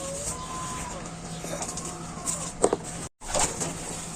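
Soft coos of racing pigeons drift through a noisy outdoor scene, with a steady hum and brief clatter underneath; a voice murmurs nearby.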